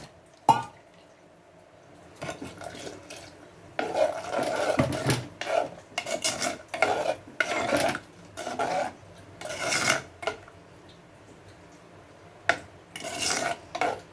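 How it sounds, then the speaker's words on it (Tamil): A spoon stirs ground coconut, green chili and cumin paste into a Kerala-style buttermilk curry, making repeated rasping scrapes against the pot in uneven bursts with short pauses between them. "இப்போ நம்ம அரைச்சிட்டு வந்த தேங்காயெலாம் நம்ம சேர்த்துடலாம்."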